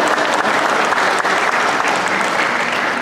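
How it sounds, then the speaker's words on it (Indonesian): A seminar audience at a national Dayak intellectual forum breaks into loud, sustained applause, a dense, continuous crackle of many hands clapping close by throughout. "boleh minta tepuk tangan yang senang."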